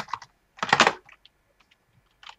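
Computer keyboard keys tapped while entering commands to set up a Raspberry Pi, a few quiet scattered clicks around one louder, denser burst of rapid typing, with no voices.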